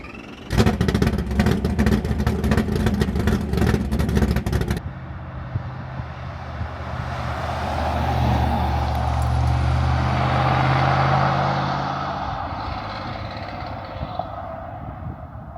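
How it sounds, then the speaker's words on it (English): A 2000 Chevy pickup truck's 5.3 liter engine runs nearby, first with a loud rattling idle, then a smoother, steady rumble that swells and fades. "This is a 2000 model Chevy pickup truck."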